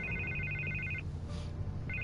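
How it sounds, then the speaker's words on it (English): A telephone rings in a Batman video game, a faint electronic trill in two bursts, the first about a second long and the second starting just before the clip ends. "I can't get the phone to stop ringing."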